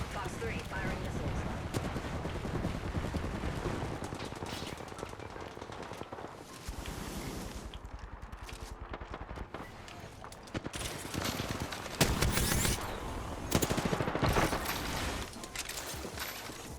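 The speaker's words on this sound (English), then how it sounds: "Knuckle clusters firing. Launching knuckle cluster." Knuckle cluster weapons firing in the Apex Legends video game, a dense, continuous barrage of loud crackling bursts and impacts that carries on for the whole stretch, with a voice talking over the gunfire.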